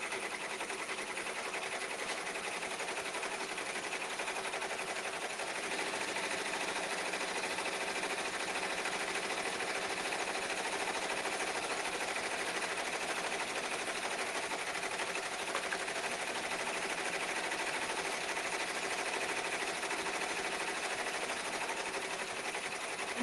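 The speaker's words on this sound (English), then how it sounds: "I'm going to sew this right around the edges" A sewing machine runs steadily for over twenty seconds, stitching around the edges of a fabric pot holder, a continuous close whir with no talk.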